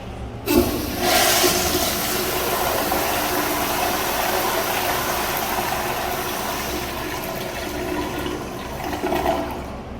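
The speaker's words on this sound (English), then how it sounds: "And obviously it's toilet flush." A Crane Hymont 1.6 toilet on a flushometer valve flushes with a sudden loud rush of water that holds steady for several seconds before tapering off.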